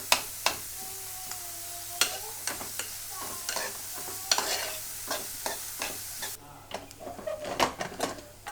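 Soya chunks sauté in a pan with masala and salt as a spoon stirs and scrapes them in repeated sharp knocks over a soft sizzle, while a voice talks along.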